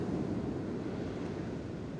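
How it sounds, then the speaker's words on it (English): Ocean waves at a Florida beach make a soft, steady wash of surf mixed with gentle wind buffeting, faint and continuous with no speech. "I'm at the beach, so it's extra hot but I'm enjoying my time out here and just watching the beautiful water and hearing the beautiful sounds"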